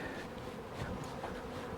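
Bees buzz around a large hive holding roughly a hundred thousand bees, a faint, steady swarm hum with brief louder passes as individual insects fly close.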